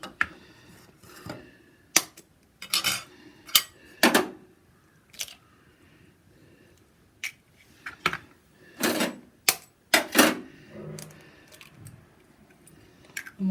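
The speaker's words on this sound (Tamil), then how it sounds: "அதுக்குள்ளே நம்ம இந்த 2 முட்டையை அடித்து கலக்கி வச்சுக்குவோம்" Two eggs whisked in a bowl for an egg soup, heard as irregular bursts of sharp clinking taps, some quick runs and some single strikes, close and fairly loud with quiet pauses between.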